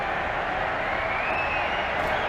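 Steady crowd roar from a virtual arena in a WWE 2K26 wrestling match, a dense continuous cheer held at even loudness throughout with no distinct claps or voices standing out.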